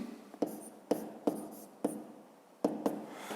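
A pen writing a maths expression on paper, a close, quiet series of about seven short scratchy strokes with brief pauses between them.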